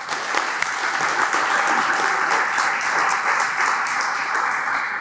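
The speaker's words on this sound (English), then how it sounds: "We can all give us a round of applause." Dinner guests at a civic association academic dinner give the board members a round of applause, dense, steady clapping from a sizable room, sustained evenly for about five seconds with no talk over it.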